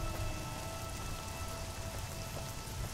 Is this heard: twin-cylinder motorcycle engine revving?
no